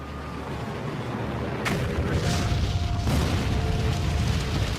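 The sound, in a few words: explosion of Russian nuclear warheads in documentary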